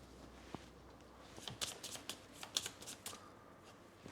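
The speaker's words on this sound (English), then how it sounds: "let's shuffle the deck, put in a 3" A deck of cards being shuffled during a tabletop board game session, a few quiet riffling and snapping bursts at close range, sporadic and soft against a low background hiss.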